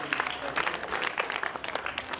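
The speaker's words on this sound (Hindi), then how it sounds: "एक बार जोरदार तालियां हो जाए इसके लिए" Scattered applause at a school event during a governor's visit, somewhat distant and uneven, individual claps distinct within the patter.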